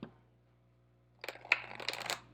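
A Season of the Witch card deck is shuffled: after a quiet pause comes a close, quick burst of crisp riffling and flicking card sounds.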